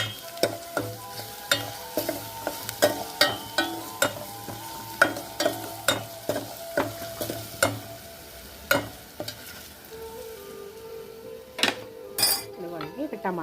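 Ingredients frying in a pan for a Muslim-style pulao with drumstick and egg curry, stirred with repeated sharp scrapes and clinks of a spoon over a steady sizzle, close and fairly loud, with a few brighter metallic knocks toward the end.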